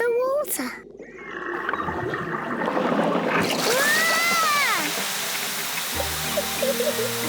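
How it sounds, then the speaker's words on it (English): In a Peppa Pig cartoon, a garden hose bursts into a loud, steady hissing spray of water that lasts a few seconds, with cartoon voices crying out over it before it stops. "Peppa holds the hose, and Daddy Pig turns on the water."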